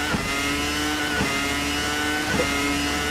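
Formula RSS 2000 open-wheel race car in a VR racing game, its engine droning steadily at moderate revs with brief bursts on each gear change, heard alone.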